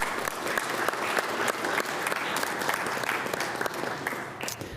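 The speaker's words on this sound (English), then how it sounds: "I just want to give us all a big round of applause right now" Participants at a Bloomington city council deliberation meeting give a sustained round of applause, a dense, steady wash of clapping from many hands in a room, lasting throughout and easing slightly at the end.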